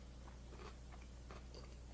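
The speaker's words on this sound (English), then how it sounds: "What is crunching in this? It sounds like fucking celery." Someone chews a crunchy cheese salad dish close to the mic, a few faint crisp crunches over a low steady hum, with no talk.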